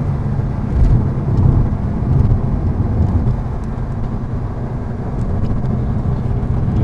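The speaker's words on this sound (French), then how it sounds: "Le plaisir de la réaccélération en sortie de virage." A Porsche 968 CS engine re-accelerating out of a corner, a loud steady low rumble heard from inside the car with slight swells in intensity and no clear gear changes.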